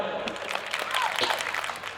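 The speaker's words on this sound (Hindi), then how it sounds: "ताली बजाओ।" An audience at a Hindi comedy poetry gathering claps in a dense, even wave of applause that stays steady and fairly close for a couple of seconds, with voices mixed in.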